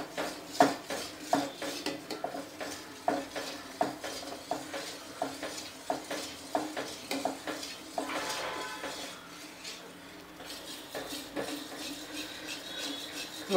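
A spoon scrapes and clinks against a pan again and again while condensed milk is stirred continuously to keep it from catching, the metallic knocks coming in an irregular but constant rhythm, close and moderately loud.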